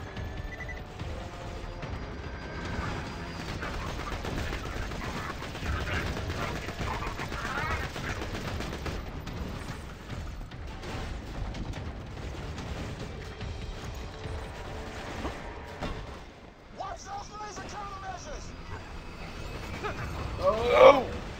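Repeated cannon and gunfire blasts from a video game rattle through a dense, busy mix of shots and mechanical clatter, with a louder burst near the end.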